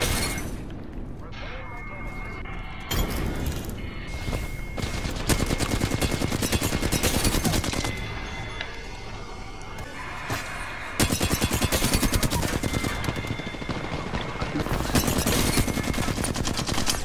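Rapid gunfire bursts in the battle royale video game Apex Legends, loud and dense across much of the stretch, with heavy layered shots and a voice talking over the action.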